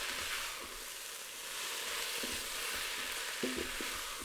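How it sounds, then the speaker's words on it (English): Mushroom filling is stirred in a hot pot, a steady soft sizzle with a few light scraping knocks of the spoon near the end, fairly quiet and with no talk. "I'm stirring just to keep anything from burning, okay, while the pot starts to cool down"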